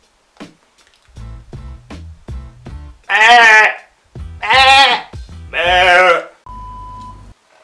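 A person imitates a sheep, giving three loud wavering bleats separated by short pauses, followed by a brief electronic beep.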